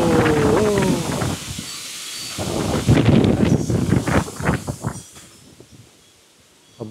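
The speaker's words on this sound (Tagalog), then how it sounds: "Oh, sobrang lakas ng hangin." Strong, gusty typhoon wind (Typhoon Uwan) roars in uneven surges that swell and ease near the microphone, with rustling nearby and the buffeting dropping away toward the end.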